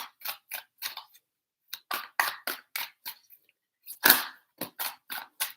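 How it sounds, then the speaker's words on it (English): Tarot cards are shuffled in three rounds, each a run of crisp riffling bursts with short pauses between, close and fairly quiet, with no talking. "Three shuffles."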